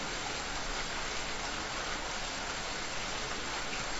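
Steady, dense rain effect from a ghost box app, the second rain option, a continuous even hiss of falling drops at constant level with no voices or other sounds.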